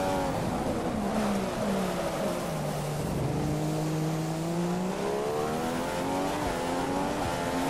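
A Williams Formula 1 car in the F1 2015 racing game at about 300 km/h on the Austin, Texas circuit. Its engine gives a loud, continuous high whine that dips and climbs in pitch, heard alone without voices.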